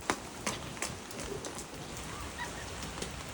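Rain falls steadily outdoors in a dense, even hiss with scattered louder drops and patters on nearby surfaces, heard close and without voices.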